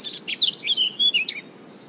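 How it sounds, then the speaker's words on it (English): Small birds chirp and tweet in a quick, bright series of short calls, fairly close and clear, tapering off toward the end with no talking. "all these birds are very annoying to me. Now I can't have fun because of their noises."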